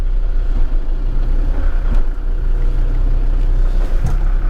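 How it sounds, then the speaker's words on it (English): A tuned Td5 Land Rover Defender diesel rolls backward off a dyno, its engine idling with a deep, loud, steady rumble close by and a few brief knocks and clunks over the drone, no talk. "So it's just backing out of the dyno now."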